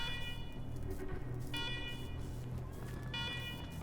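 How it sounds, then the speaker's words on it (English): Electronic alarms blare in the video game Wasteland 3, sounding as steady repeating tonal wails over a constant, dense background at moderate level. "let's talk after you kill the alarms"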